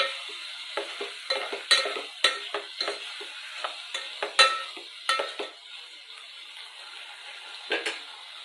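Cut tomato pieces tipped into a simmering curry in a pan, giving a run of sharp scraping stirs and clinks of a spoon against metal over a light sizzle, uneven and close, fading toward the end.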